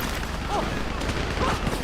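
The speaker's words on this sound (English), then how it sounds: "You hear that gunfire?" Gunfire in the video game GTA 5 story mode during a shootout escape, a dense stretch of rapid shots and booms rolling continuously at steady loudness, with no pauses.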